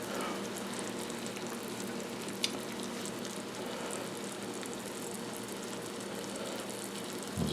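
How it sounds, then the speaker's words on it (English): Sugar bubbling in a pan as it starts to caramelize for an apple walnut bundt cake, a soft continuous sizzle and bubble, quiet and steady with one faint clink. "Hasn't started to caramelize yet, but it's bubbling away nicely"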